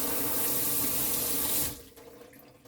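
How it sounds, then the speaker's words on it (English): Water gushes steadily from a Xiaomi Xiaoda instant heater tap, a loud close hiss that cuts off abruptly after about a second and a half, leaving faint drips and room noise. "And if you turn on the water back on through the tap, it turns on."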